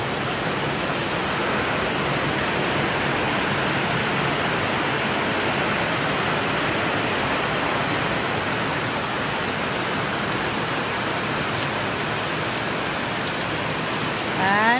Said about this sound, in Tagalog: Ngayon, ang lakas ng ulan.